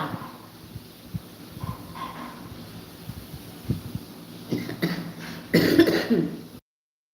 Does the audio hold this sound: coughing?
yes